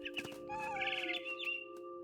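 A bird chirps in What Remains of Edith Finch, on a high cliffside where a cat chases it. It gives a few bright, quavering trills over a steady background hum, moderately loud and with no talking.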